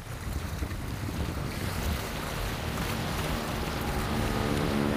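Waves lapping and splashing on a cold alpine lake near Annecy, close and loud, with gusting wind buffeting the microphone throughout.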